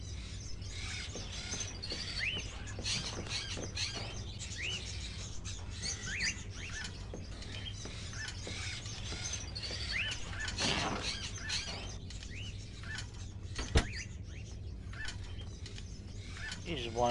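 Small birds chirp and tweet in scattered bursts over a steady low hum inside the video game Indigo Prophecy, with faint voices now and then.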